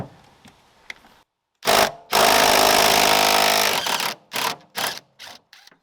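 Wrench or power tool removing the 14 mm bolts from a fuel tank strap on a barn-find vehicle, a sustained loud whirring run followed by several short bursts, close, without talk.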